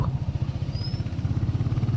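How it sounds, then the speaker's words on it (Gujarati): A motorcycle ridden on a steep, winding mountain road, its engine thudding in a steady close pulse throughout, loud and without talk. "અહીંયા બહુ સાવચેતીથી બાઇક હલાવવું પડે"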